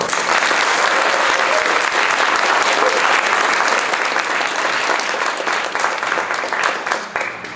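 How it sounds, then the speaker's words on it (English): Loud, dense applause from an audience following a capstone presentation on making the town of Craigville net zero, sustained for several seconds and thinning slightly toward the end. "Following that enthusiastic applause"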